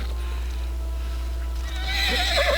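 A horse in the video game Elder Scrolls Online gives a loud, wavering neigh near the end, after a steady stretch of game ambience and low hum.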